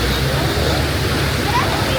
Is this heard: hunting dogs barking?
no